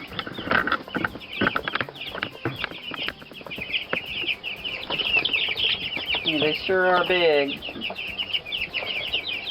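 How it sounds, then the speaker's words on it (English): Young chickens on a farm cluck and peep beneath a heat light, close and fairly steady throughout, with one brief burst of chirping near the end; a person speaks over the birds. "those are our new chickens"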